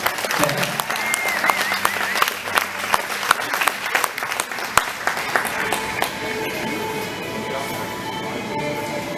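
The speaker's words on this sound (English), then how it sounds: "Nice round of applause for Jane Equestrian and Janet Tenney" Sustained audience applause fills an equestrian gala arena, dense, steady clapping from a large crowd, with a brief voice and some tonal background sound mixed in.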